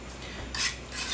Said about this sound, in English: You want to keep stirring and stirring and stirring and stirring and stirring.